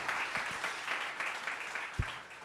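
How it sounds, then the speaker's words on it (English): Audience at an innovator awards ceremony breaks into applause, a fairly faint, even patter of many hands from across a hall, with a few louder nearby claps and no speech on top. "Round of applause."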